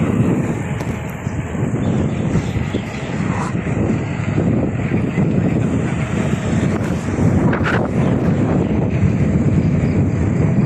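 Loud, continuous wind buffeting the microphone while cycling in the Philippines, a rough low roar with gusty fluctuations throughout.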